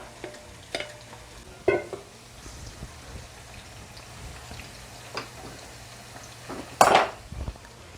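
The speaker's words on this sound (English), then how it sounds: "I'll give that a good stir." Onion and pepper sizzle faintly in a pot while a utensil stirs and clinks against the metal, with a few sharp scrapes and knocks, one louder clatter near the end.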